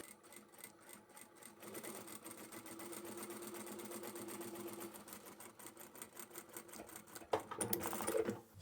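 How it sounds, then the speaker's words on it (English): A sewing machine stitches cotton or upholstery fabric for a large boxy bag, running in a steady, fast, even whir with a brief backstitch near the end, close and clear with no talk. "So I'll back stitch here and continue on and taper down to nothing, about 3 or 4 inches from the outside edge again."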